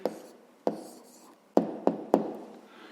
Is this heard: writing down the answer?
yes